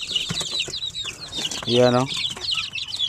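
Chicks at a poultry farm peeping in a dense, high-pitched chorus, with a brief clucking call from a hen and a voice speaking over them.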